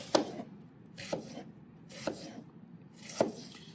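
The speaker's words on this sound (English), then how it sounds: "we're going to cut the same way from the front, but through that way of the onion" A knife cuts through an onion on a cutting board for a Bolognese, four separate crisp chops spaced about a second apart, close and moderately loud.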